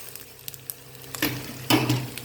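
Washed basmati rice is stirred and fried in a pan over a lowered flame: soft scraping strokes, then two louder sizzling stirs close by, with no talking.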